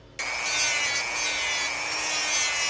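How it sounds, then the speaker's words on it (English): A Dremel rotary tool grinds plastic pieces flat for a stormtrooper costume belt. It starts abruptly as a high, whining rasp and then holds steady and close. "we're just going to take our Dremel and we're going to Dremel away at this until we have a nice flat little brick"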